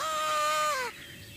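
One close, harsh caw from a corvid, a rook or carrion crow, in farm fields where a hunter waits in a hide. The single call is drawn out and ends abruptly.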